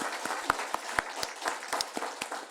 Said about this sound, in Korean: 즐거운 마음으로 한번 같이 박수 한번